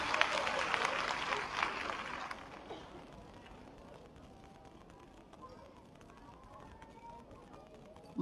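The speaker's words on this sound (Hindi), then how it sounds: "एक बार जोरदार तालियां हमारी सभी बहनों के लिए।" Applause for a group of women at a government app launch and thermal printer distribution event in Lucknow, loud and dense for the first two seconds, then fading into a quieter room murmur.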